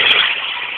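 A Peugeot 106 with a 1.1-litre engine running with no exhaust fitted, giving a loud, raw, close rasping roar that peaks briefly at the start and then holds at a steady high level for under a second.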